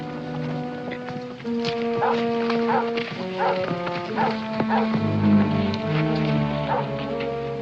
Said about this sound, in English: Now, that dog's on a trail. I can tell by his voice.